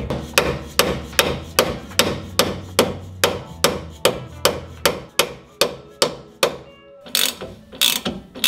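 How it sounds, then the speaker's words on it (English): A mallet pounds a stubborn lower rear shock bolt out of a Toyota Tacoma's FOX 2.5 Race Series shock mount, about fifteen loud, evenly spaced metallic strikes, then a few scraping, clattering knocks as it frees, no talking. "Now this bolt is really tricky to take out, so I'm gonna use my mallet."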